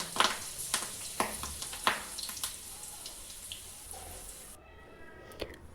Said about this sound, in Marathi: कढीपत्ता पण आपल्याला तळून घ्यायचा आहे।